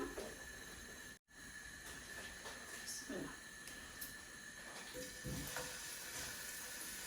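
Cooking oil sizzles steadily in a pan in a home kitchen, a continuous hissing crackle that fills the whole stretch apart from one brief dropout, with faint voice-like sounds in the background.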